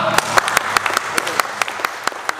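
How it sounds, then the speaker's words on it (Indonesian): Applause breaks out in a fire-prevention briefing at a military commando battalion, with sharp individual claps rising over a scattered crowd patter in a hall, some voices mixed in. "Tepuk tangan dong Pak."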